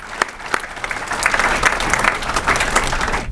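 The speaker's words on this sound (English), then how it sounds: "So let's give them a round of applause." Audience applauding graduates of an adult leadership program in Sheboygan County: steady, dense clapping from a sizable crowd that holds evenly for several seconds with no talk over it.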